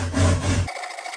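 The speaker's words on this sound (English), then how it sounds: "so I'll need to finish that with the handsaw." A handsaw cuts through wood in a 200-year-old cottage kitchen renovation, giving a brief, close rasping stroke that stops after about half a second, leaving faint room noise.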